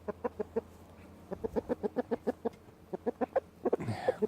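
Chickens cluck near a house where a broken window pane is being replaced, a quick series of short, sharp clucks in an uneven rhythm, fairly close and moderately loud, with a brief rustle near the end.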